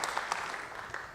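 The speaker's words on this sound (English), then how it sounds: "Now you can applaud." Scattered applause from a conference session audience: a faint, brief patter of a few claps in a large hall, distant and light.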